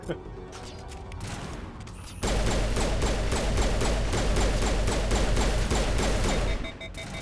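Rapid gunfire from a sci-fi shooter game, Mass Effect Legendary Edition, erupts after a quieter stretch and keeps up a dense, loud rattle of repeated shots for several seconds before easing off.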